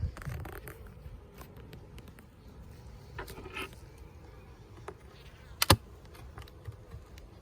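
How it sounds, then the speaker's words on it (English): Honey bees swarm over a hive being checked for fondant and pollen patty feeding, giving a close, steady buzzing hum with scattered clicks of handling and one sharp knock near the end. "It's a good hive too. There's a lot of bees."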